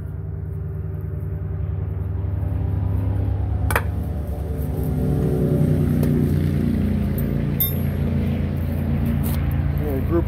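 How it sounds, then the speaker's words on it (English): A group of motorcycles rumbling past nearby outdoors, engines droning and swelling in volume as they go by. "a group of motorcycles going by."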